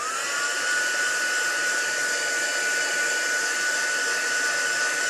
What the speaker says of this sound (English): Get my heat gun.